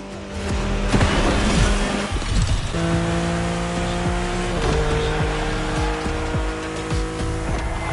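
A BMW M4 Liberty Walk Edition races in The Crew Motorfest, its engine droning loud and close with rising gear pulls, shifts and occasional tire squeal.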